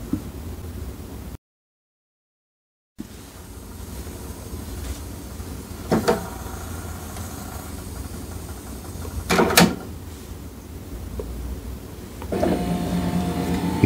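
An HP DeskJet 4200-series printer runs its mechanism during a reset, with a low motor whir, a short dropout, then sharp clicks and clunks around the middle and a rising whirring drive near the end, close by with no voices.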